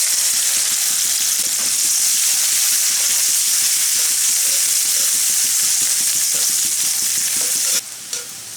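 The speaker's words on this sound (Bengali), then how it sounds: "পেঁয়াজটা হালকা ভেজে নেব।" Chopped onions fry lightly in a pan of oil with a bay leaf, a loud continuous sizzle with stirring scrapes that eases off abruptly near the end.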